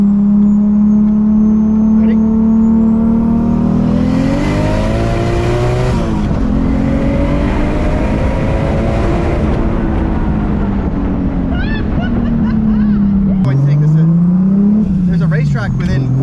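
A Lexus IS300 or Mazda RX7 FD accelerates hard, loud and close, its engine note climbing and falling through several gear changes with a sharp drop near the end. A voice is heard over the roar.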